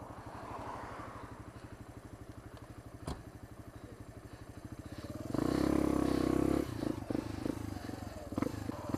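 Motorcycles at a four-day motorcycle and music festival on a farm, a pulsing idling engine throbbing steadily, then a loud roaring rev burst midway, with faint background voices.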